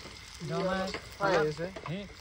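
Chopped onions fry in a hot pan, a soft sizzle mostly buried under close, clear talking.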